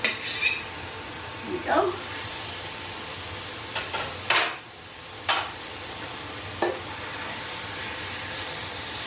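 Fajita meat goes into a hot pan or skillet, giving a steady sizzle and frying hiss with scattered scrapes and clinks of a utensil against the pan, while a voice briefly speaks.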